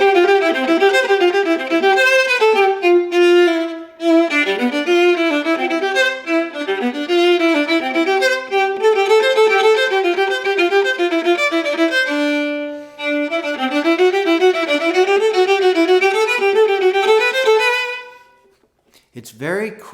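Solo viola runs through Fiocco's quick, bright Allegro in fast, nimble bowed passages, close and clear, with a brief break midway before stopping near the end.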